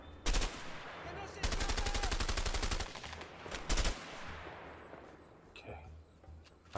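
Bursts of automatic gunfire in the video game A Way Out, with two long sustained volleys and shorter loud bursts fading into quieter distant shots and ambient noise.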